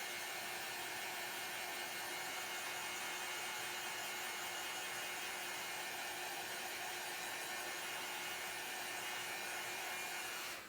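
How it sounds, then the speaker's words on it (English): A hair dryer blows on chalk paste in a crafting project, a loud, steady, close whooshing hum with a constant motor tone that runs unbroken for the whole stretch. "So I'm going to take my hair dryer, excuse the sound, just to help this dry."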